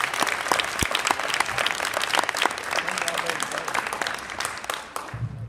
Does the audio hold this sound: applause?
yes